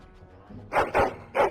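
Dog barking in Dragon Age: Origins, three sharp close barks in quick succession after a brief quiet lead-in.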